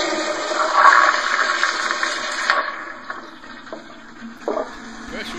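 A pressure-assist toilet flushing up close: a loud forceful whoosh of water that starts at once, holds strongly, then tapers into gurgling refill.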